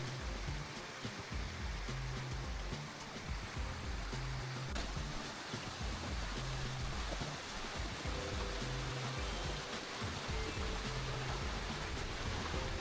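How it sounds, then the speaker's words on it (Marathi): A rain-swollen stream rushes over rocks on the Visapur fort trail, a steady, close wash of water with no pauses. "एकदम असा खळखळ खळखळ पाण्याचा आवाज यायला लागलाय आणि प्रेशर पण पाण्याचं लय जास्त आहे"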